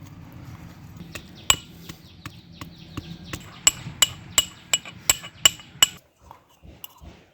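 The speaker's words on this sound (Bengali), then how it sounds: "রসুনগুলো থেতো করে নেব।" Garlic cloves are crushed with a series of sharp, ringing knocks in a quick irregular run, close, over faint background noise.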